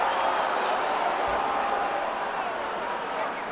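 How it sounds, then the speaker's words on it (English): Arena crowd at a UFC heavyweight bout between Chuck Liddell and Wanderlei Silva, a steady, distant roar filling the hall with faint claps and whoops, under a commentator's voice. "The crowd reacted, though."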